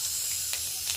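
Cumin seeds with whole garam masala crackle in hot oil, giving a brief, steady, close hiss with a small burst near the middle and no voices.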